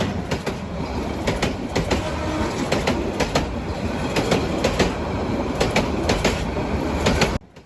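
Upakul Express passenger train running on rails between Sonaimuri and Dhaka, a loud steady rumble with rhythmic clickety-clack wheel beats repeating through the run, heard close with no voices.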